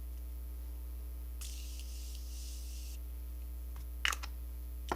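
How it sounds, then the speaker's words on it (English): A Morphe makeup setting spray fires one sustained hissing mist burst of about a second and a half, close and fairly soft over a steady background hum, followed later by a couple of brief clicks. "Now we're going to go in with our spray."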